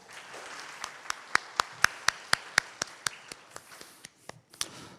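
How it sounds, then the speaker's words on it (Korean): Audience applause closing an online radiology alumni mentor lecture, a steady run of sharp, evenly spaced claps rising to a peak then thinning out near the end. "다시 한번 큰 박수 부탁드리겠습니다"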